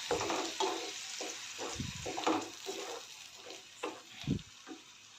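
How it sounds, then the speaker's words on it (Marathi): A steady oily sizzle with repeated scraping strokes of a spoon stirring thick onion, tomato and garlic paste in a hot pan of oil, close and moderately loud. "चांगलं तेल सुटेपर्यंत परतून घ्यायचं आहे"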